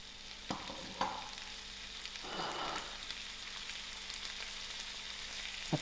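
Chilies and tomatoes hitting softened onions in a hot pan for a sweet and sour chicken stir fry, a steady sizzle with a few stirring scrapes and soft clatters, no talking.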